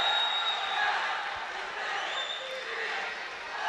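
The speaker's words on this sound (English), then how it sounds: "they can hear the crowd counting down the last 5 seconds" A large crowd at the AIBA World Boxing Championships semi-finals in Baku roars steadily in an arena as a bout's final seconds run out, a sustained loud wash of voices with scattered shouts.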